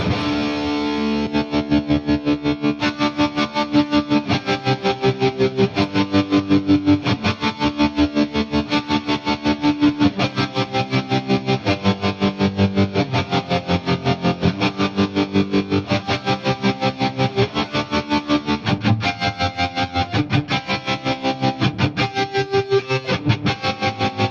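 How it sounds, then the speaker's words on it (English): Electric guitar run through a Mooer helicopter effect pedal into a Marshall DSL100H amp, distorted chords chopped into a fast, steady rhythmic pulsing that continues loud and unbroken, with no talking. "I see the helicopter pedal from Möhr"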